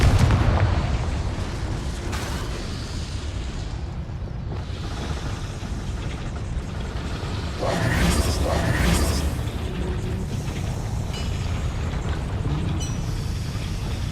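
Confringo fire-blast spell cast in the video game Hogwarts Legacy, heard as a dense, sustained rumbling explosion with a louder burst midway, set against continuous in-game ambience and no talking.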